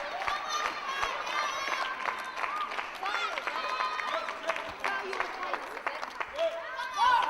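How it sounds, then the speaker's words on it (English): A wrestling arena crowd cheers, claps and shouts during a women's match, a dense, steady roar of many voices with scattered whoops, with a commentator talking over it. "Sweet Saraya getting the crowd behind her."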